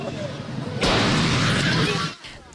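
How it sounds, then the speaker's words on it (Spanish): A nighttime explosion in the La Garzota area of northern Guayaquil, recorded as news footage: a sudden loud broadband burst hits, then a sustained roaring blast lingers for over a second before cutting off to quieter background noise. "esta explosión que se escuchó a 10 cuadras a la redonda alarmó a los habitantes de La Garzota en el norte de Guayaquil"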